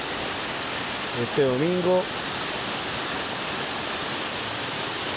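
The Guarruz creek flows in a steady, loud rushing wash on a late afternoon with light rain falling, and someone speaks briefly over it.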